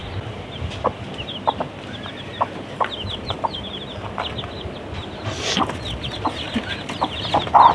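A hen clucks among her newly hatched chicks, giving short, evenly spaced clucks close by over a steady farmyard background, with a slightly louder burst near the end.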